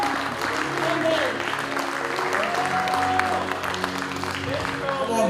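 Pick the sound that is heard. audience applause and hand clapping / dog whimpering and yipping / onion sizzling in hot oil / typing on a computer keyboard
audience applause and hand clapping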